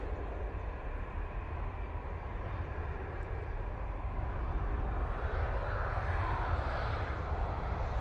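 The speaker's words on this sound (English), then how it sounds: "777-300ER coming in from Dubai." An Emirates Boeing 777-300ER airliner arrives at Manchester Airport from Dubai, its steady broadband jet roar heard at a distance and swelling slightly toward the end.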